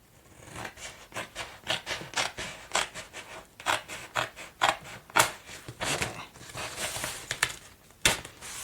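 Scissors snip through paper for a journal cover in a close, irregular series of crisp cuts and rustling scrapes, each snip sharp and distinct.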